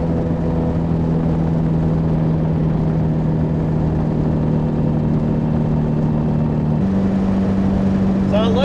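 An MG TD engine runs at 3,000 RPM in fifth gear on the road, a steady close drone with low rumble that holds throughout and shifts pitch slightly near the end.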